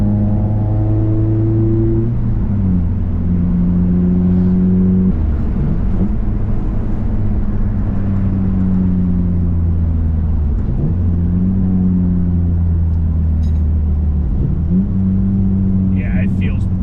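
A car fitted with an Exedy stage 1 clutch drives along with a loud, steady engine drone whose revs climb and then drop sharply at each gear change, repeating several times in a smooth rhythm.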